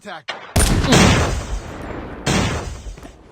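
Gunfire in the mobile shooter Call of Duty Mobile: two loud, close blasts of shooting, each starting with a sharp crack and fading off, with a short pause between them.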